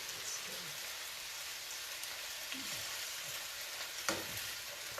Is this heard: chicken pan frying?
yes